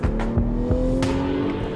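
A VW Golf R (sixth generation) engine with a turbo fault revs steadily and rises in pitch as it accelerates through the gears, with brief shifts in tone, heard up close.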